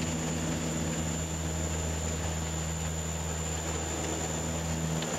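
Dash 8 turboprop airliner engines at takeoff rotation, a steady loud propeller drone with a constant tonal hum and high whine, heard from inside the cockpit without pause.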